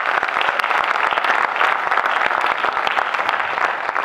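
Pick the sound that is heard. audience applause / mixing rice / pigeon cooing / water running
audience applause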